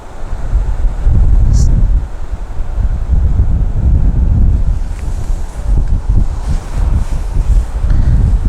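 Strong wind buffets the microphone at an outdoor fishery, a loud, continuous low rumble with gusting surges and no speech.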